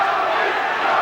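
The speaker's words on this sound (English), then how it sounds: "Finally, the crowd getting somewhat involved." A large boxing arena crowd of over 8,000 at the Arco Center in Sacramento roars with loud, sustained cheering and chanting during a 1988 title bout, a dense continuous wash of voices.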